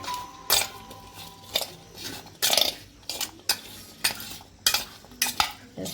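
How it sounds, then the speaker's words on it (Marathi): A spoon clinks and scrapes against a bowl as raw mango pickle is mixed with half a spoon of turmeric, giving several sharp, irregular metallic taps close by with quiet pauses between them. "हळद टाकायची अर्धा चमचा आणि हे सगळं मिक्स करायचं चांगलं"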